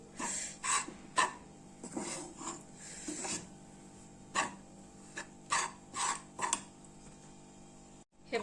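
Spatula working wheat flour as it roasts in ghee on low heat, with soft rhythmic scraping and rubbing strokes against the pan at an unhurried pace.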